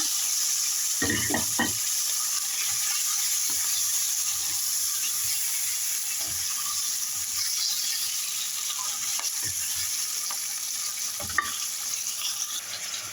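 Fish in a quick tomato sauce frying in oil, a steady loud sizzle held throughout with occasional soft stirring knocks, close and continuous, no talking.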